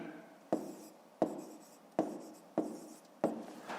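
A pen writes numbers by hand on paper during a fifth-grade maths exercise, with five sharp, evenly spaced scratching strokes close by and no voices.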